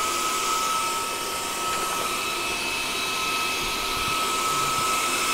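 An air compressor with its cooling fan running while it fills a PCP air pistol gives a steady, loud whooshing hum with a faint high whine and no break for the whole stretch.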